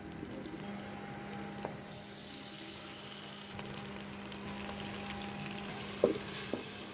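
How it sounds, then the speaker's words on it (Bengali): Onions frying faintly in hot oil in a home kitchen, with a steady soft sizzle, a low hum and a few light scrapes as they are stirred. "পেঁয়াজ দিয়ে ভালো করে নেড়ে দিব।"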